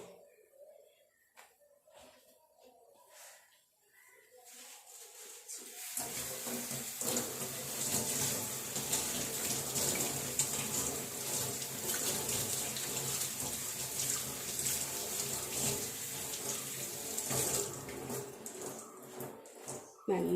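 Tap water pours steadily into a sink while vegetables such as spinach are washed in a Kerala home. The gentle, continuous splashing starts after a few seconds of quiet clatter and carries on to the end.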